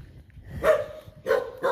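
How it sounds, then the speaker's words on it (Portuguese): A dog barks three times, loud and fairly close, with short gaps between the barks and the last two coming in quick succession over a quiet background. "esse cachorro fica latindo muito"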